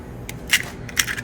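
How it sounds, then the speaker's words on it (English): Eggs cracked into a blender cup, two crisp cracking taps a few tenths of a second apart, close and fairly quiet with no talking. "All right, now go the eggs."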